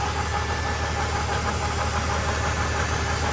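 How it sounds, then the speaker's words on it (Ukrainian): A homemade 220V generator built from an asynchronous induction motor runs continuously with a steady mechanical hum and a fast, even knocking rattle, loud and close with no pauses. "І в цей час от я хочу спробувати як зупинити оцей мотор."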